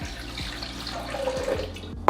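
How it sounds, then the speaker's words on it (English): Coconut water is poured into a Vitamix blender jar, a short steady liquid stream with light splashing and a few soft knocks, close and quiet. "we're going to start again with adding some coconut water into my blender"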